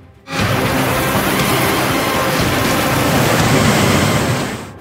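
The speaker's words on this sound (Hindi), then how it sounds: "बारिश मूसलाधार, डूब गए घर बार।" Heavy torrential rain pours down in a dense, continuous hiss during flooding in Sawai Madhopur, India, swelling in abruptly after a brief quiet start and holding steady and loud to the end.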